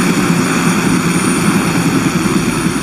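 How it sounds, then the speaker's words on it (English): Steady droning rotor and engine noise of helicopters in a Call of Duty video game, loud and continuous without letup, with no talking. "Tarkov is sending in helicopters"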